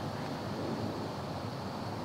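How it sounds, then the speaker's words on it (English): Continuous swirling wind rushing and buffeting outdoors during whitetail deer hunting season, a broad steady roar without voices. "It's kind of a swirly wind"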